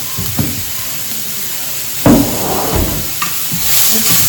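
Potatoes and vegetables sautéed in a dry pan over low gas with salt, with no oil: a soft, steady hiss with scraping stirs and a few brief clatters, close by and moderately loud.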